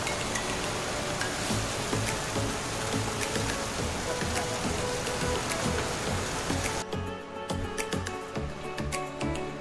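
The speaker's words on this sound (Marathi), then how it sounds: "आज पण जरा पाऊस जोरात चालू अडकलो." Heavy rain pours steadily near a market in Sindhudurg, Konkan, making a dense, continuous hiss and patter that stays loud throughout and thins slightly in texture toward the end; no voices.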